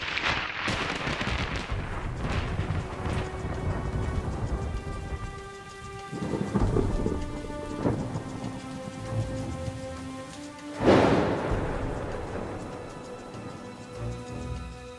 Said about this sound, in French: Ça tourne à l'orage.